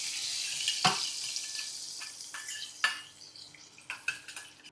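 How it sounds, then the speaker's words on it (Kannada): Hot tempering of curry leaves is poured into a pot of sambar made with amaranth leaves and drumsticks, followed by stirring, with sharp metallic clanks and scrapes of the spoon against the pot over a soft background hiss. "ಈಗ ಒಗ್ಗರಣೆನ ಸಾಂಬಾರೊಳಗೆ ಹಾಕ್ತಾಯಿದ್ದೀನಿ."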